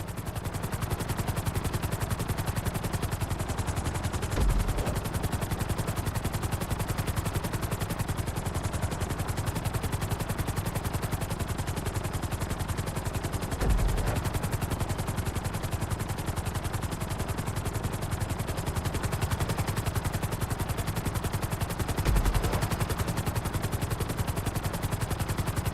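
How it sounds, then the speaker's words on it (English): A helicopter in Grand Theft Auto V descends toward a helipad, its rotor beating in a steady rapid chop with a constant engine drone, with a few dull thumps along the way. "Bring the helicopter down gently onto the helipad."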